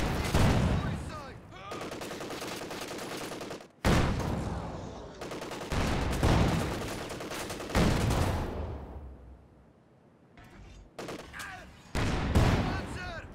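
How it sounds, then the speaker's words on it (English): Panzer IV tank cannon and machine gun fire in a WWII strategy video game: loud bursts of rapid gunfire and heavy blasts in separate volleys with brief gaps between them. "this Panzer IV having a bit of trouble firing at this range"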